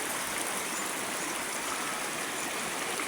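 A stream of cold water flows over rock formations, a constant rushing hiss with no breaks, moderately quiet and heard alone.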